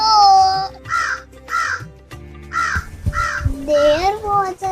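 A crow caws in a run of harsh, repeated calls, several separate caws spaced through the moment, close and fairly loud, with a voice telling a story at the start and end.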